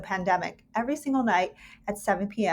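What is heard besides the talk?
No distinct noise like a dog, phone or traffic.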